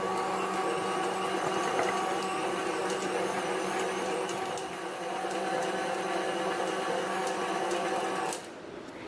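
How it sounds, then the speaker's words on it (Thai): A stand mixer beating bread dough with butter at speed 3 gives a steady motor whir with a mechanical hum. It runs evenly for about eight seconds, then drops in level near the end. "จากนั้นเราจะปรับใช้สปีด3 ในกันตีขั้นตอนนี้ยาวๆไปเลยประมาณ 20 นาทีให้แป้งกับเนยเขาเข้ากันดีเลยค่ะ"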